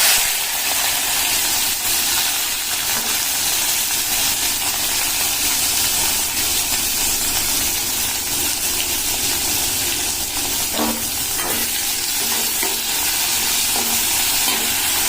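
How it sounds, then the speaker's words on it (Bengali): Whole cinnamon, cardamom and peppercorns hit hot oil with capsicum for tempering, giving a loud, steady, close-up sizzle and crackle that runs without pause throughout. "আমি এই দারচিনি এলাচ আর গোলমরিচ এইগুলো আমি ফোড়ন দিয়ে দিলাম আর আমি ক্যাপসিকামগুলো দিয়ে দেবো"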